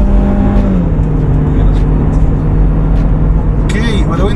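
A Mercedes C 180 AMG accelerating in sport mode, a steady engine drone with rising tones heard from inside the car while people talk over it.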